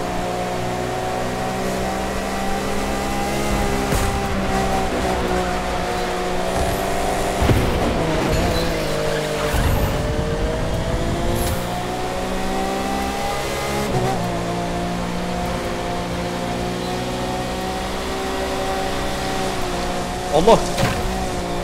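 Steady car engine hum with layered harmonic drone rises and shifts over twenty seconds of driving in The Crew 2 racing game, with someone talking loosely over it and brief louder bursts near the middle and end.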